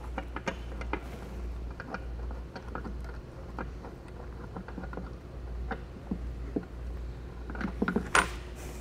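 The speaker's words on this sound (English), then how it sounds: "Now I can just start threading it in." Metal bolt being threaded into a RockyMounts bike rack tray, with light clicking and scraping taps scattered through close, quiet mechanical handling and a brief louder clank near the end.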